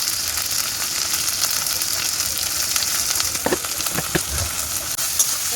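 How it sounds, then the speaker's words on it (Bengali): Capsicum and tomato frying for chowmein, a dense continuous sizzle close up with a few clattering stirs near the end. "ক্যাপসিকাম দেওয়ার পরে ভাজবো এটাকে"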